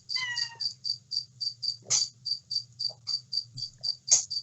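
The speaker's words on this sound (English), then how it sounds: "Now a cat has joined the cricket in the stream." Steady rhythmic cricket chirps pulse about four times a second throughout, with a cat meowing briefly in the middle and again near the end, both fairly close against a low background hum.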